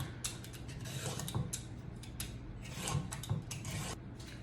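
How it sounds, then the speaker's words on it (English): A vegetable peeler scrapes along a raw carrot in a series of short, close rasping strokes, quiet and uneven in rhythm, with no talk. "I found it best to use a peeler to peel your carrots."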